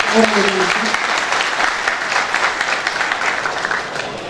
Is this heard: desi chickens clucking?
no